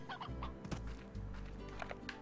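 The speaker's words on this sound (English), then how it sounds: "We do specifically want stony hens" Stony hens from the video game Slime Rancher cluck in a few short, soft bursts of bird calls over a low game background, with no speech.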